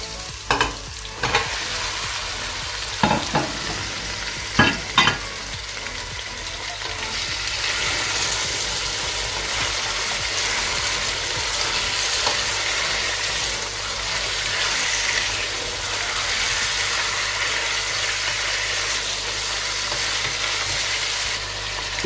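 Mutton pieces sizzle and fry on full heat while a utensil scrapes and stirs, a few clanks early on giving way to a steady loud hiss that fills the whole stretch.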